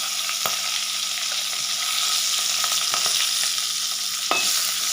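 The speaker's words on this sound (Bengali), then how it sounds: "তেলের মধ্যে আমি একটা বড় সাইজের পেঁয়াজ ভেজে নিচ্ছি, বড় বড় করে এরকম।" Large pieces of onion frying in oil give a loud, dense, continuous sizzle close up, with occasional crackles and light stirring clicks and no talking over it.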